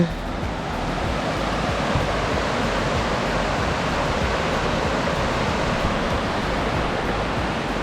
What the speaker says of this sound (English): The soothing, relaxing sounds of the river